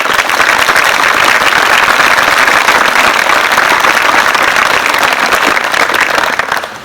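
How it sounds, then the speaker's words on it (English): A conference crowd claps loudly and densely for staff, a sustained wash of applause lasting nearly seven seconds before tapering off at the end. "So please give them a round of applause."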